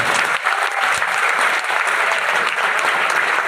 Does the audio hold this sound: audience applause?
yes